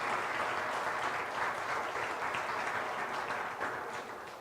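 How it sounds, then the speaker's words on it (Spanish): Church congregation applauding during an Easter Sunday service, a continuous wash of clapping that sounds somewhat distant and fades slightly near the end. "Y puede darle otro aplauso al Señor."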